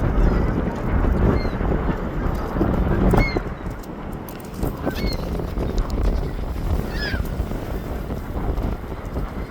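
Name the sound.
wind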